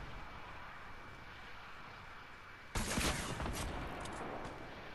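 Burst of gunfire in a first-person shooter game starts suddenly partway through, loud broadband cracks and rattling shots continuing over a steady background hum, with aircraft engine drone also present.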